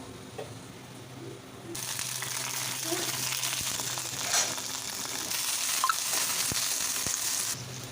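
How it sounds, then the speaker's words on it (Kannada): Green chillies hit hot oil and sizzle loudly in a steady crackle, with faint bird cooing in the background. "ಮೆಣ್ಸಿನ್ಕಾಯಿ ಚಂದಾಗಿ ಹುಡ್ಕೊಂಡಿನಿ ರೀ"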